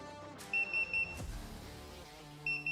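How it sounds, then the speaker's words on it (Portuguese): A SIRIUS LC fire alarm control panel gives electronic double beeps twice, a short high pair around the middle and another pair near the end, over a low background hum. "a central então vai começar a indicar isso através de um bip duplo."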